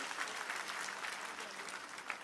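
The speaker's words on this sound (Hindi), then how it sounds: "जोरदार तालियों से अपने मुख्यमंत्री जी का हम अभिनंदन करें।" Applause from an audience at a BJP membership campaign launch in Madhya Pradesh, a steady dense wash of many hands clapping at once, loud and unbroken throughout.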